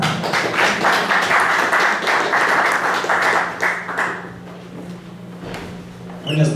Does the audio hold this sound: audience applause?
yes